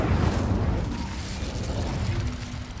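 An Incendio fire spell is cast in Hogwarts Legacy, giving a dense, continuous roaring whoosh of flame with crackling texture that holds steady and loud for the whole stretch, with no talk over it.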